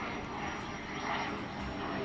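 An airplane passes overhead as a steady, broad engine roar that swells slightly in the middle, with a voice speaking faintly underneath.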